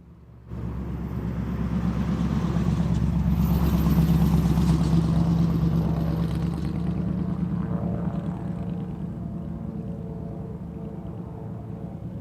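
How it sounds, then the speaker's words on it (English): A seaplane takes off at an airport, its steady engine and propeller drone rising quickly after half a second and holding strong, then easing slightly as it recedes. "Let's go to the seaplane taking off."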